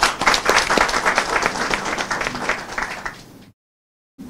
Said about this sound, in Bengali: আমরা সবাই একসাথে আমরা হাততালি দিই